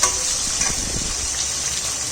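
Curry leaves crackle and sizzle loudly in hot oil seasoned with asafoetida, a dense close hiss with sharp spitting pops, steady throughout.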